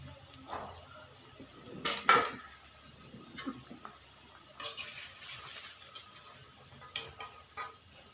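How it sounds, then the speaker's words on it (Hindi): Fully cooked vegetable pakoras lifted out of hot frying oil, with soft sizzling and a few sharp clinks of a utensil against the pan in a quiet kitchen, the taps scattered across the stretch. "ये आप पकोड़े हमारे मुकम्मल पक चुके हैं, इनको बाहर निकालेंगे"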